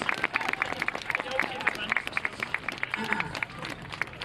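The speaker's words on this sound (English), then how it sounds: "we should start out by giving just a big round of applause for all the organizers of the demo" An outdoor crowd at a Close the Camps protest demonstration in Copenhagen claps in quick, fairly light applause with individual claps standing out, moderately distant beneath faint crowd murmur.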